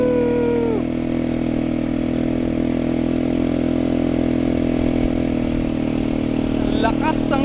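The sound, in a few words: ATV engine running on the beach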